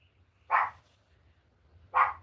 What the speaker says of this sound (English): I think that's what she's barking at